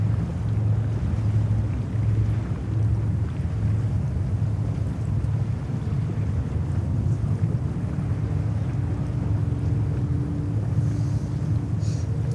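A Gulf Air Boeing 787-9 Dreamliner takes off from JFK in heavy winter wind, a distant low engine roar buried under constant loud wind buffeting the microphone.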